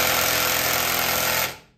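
A Milwaukee impact wrench hammers hard and continuously on a bolt, trying to break loose a nut fastened with a Harbor Freight Hercules 3/8-inch impact, loud and close for about a second and a half before cutting off.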